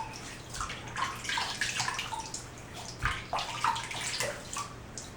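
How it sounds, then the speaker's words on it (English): Hot tap water scooped from a filled bathroom sink and splashed onto the face before shaving, giving repeated soft splashes and drips close by, with no talking. "I'm going to go ahead and add a little bit of hot tap water to my face."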